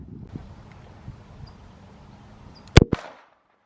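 A toy pistol firing, two sharp loud cracks close together near the end, after a low rustle of handling noise, then silence.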